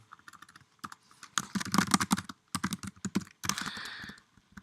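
Someone types on a computer keyboard while writing Python code, producing quick, close clicks of keystrokes in irregular bursts with short pauses. No one speaks.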